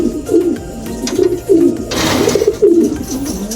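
Racing pigeons in a loft during trap training coo close and loud, with repeated throaty coos overlapping in a steady rhythm.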